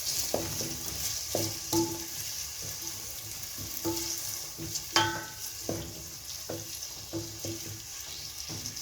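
Tomatoes cooking in a pan for githeri, a gentle sizzle under repeated rhythmic scrapes and clinks of a spoon stirring, close and steady with no voices.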